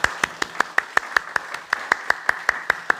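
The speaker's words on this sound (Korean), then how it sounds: "이 시간 우리 축하하는 마음을 담아 뜨거운 박수 하겠습니다" A handful of people in a church clapping at a steady, fairly regular rhythm, each clap distinct and sharp, with light room noise underneath.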